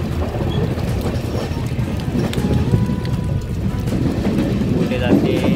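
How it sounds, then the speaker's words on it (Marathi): Heavy monsoon rain near Chiplun in the Konkan, heard from inside a moving vehicle as a dense, continuous roar of downpour mixed with road and wind noise, with people talking faintly. "खूप जोरदार पाऊस पडतोय."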